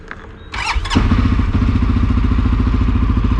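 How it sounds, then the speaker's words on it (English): A 2022 CFMOTO CForce 600 ATV engine comes up to speed as the ride starts, with a brief squeal and clatter and then a steady, loud, throbbing drone. The engine runs close and continuously with no talk over it. "Let's take the 2022 for a quick ride here."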